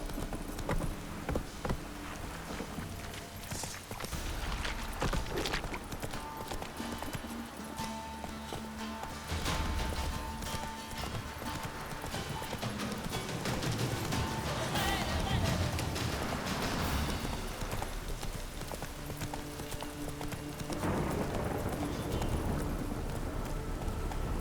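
A horse gallops in The Witcher 3: Wild Hunt, its hooves pounding in a quick steady rhythm throughout, with an occasional snort or whinny and game dialogue and ambience mixed in.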